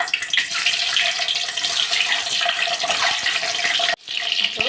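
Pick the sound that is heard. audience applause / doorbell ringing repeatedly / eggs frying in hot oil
eggs frying in hot oil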